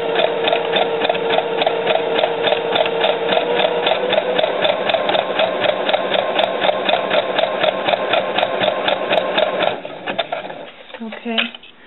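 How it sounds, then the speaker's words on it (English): Sewing machine running steadily as it zigzag-stitches over fishing line laid on tulle, a fast even mechanical rattle close up for about ten seconds, then slowing and stopping. "I'm just sewing a zigzag by gently tugging on the back of"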